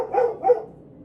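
A dog gives two quick, close barks in succession, sharp and fairly loud, then fades into quiet with no voices.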